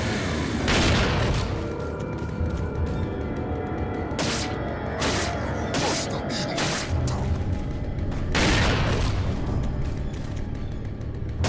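Resident Evil 4 gameplay in the mines brings loud, booming game gunshots over a dense, continuous backdrop of noise, several heavy blasts spaced a second or two apart.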